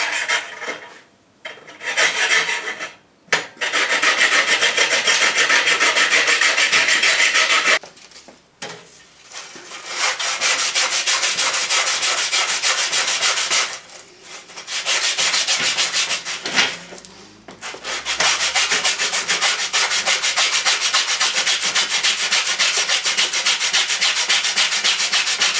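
Draw filing across a bash plate to remove teeth marks: long loud rasping strokes in repeated bursts with brief pauses between passes, close and alone without speech.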